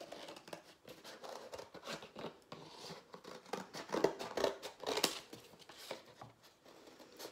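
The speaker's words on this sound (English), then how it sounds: "Sometimes cutting card can be a bit tough on your fingers." Scissors cutting card, a run of uneven crisp snips and crunchy slicing strokes close up, with irregular pauses between cuts and no talking.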